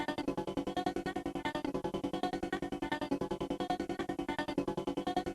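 A pitched-down sampled texture loop with percussive envelopes, pulsing in a fast, even rhythm of short repeated hits, steady and fairly quiet with no voices.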